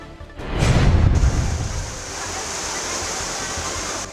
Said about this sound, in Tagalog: Halin pa kagabi ang pagbubo sa mamunog nga ulan sa syudad sang Iloilo.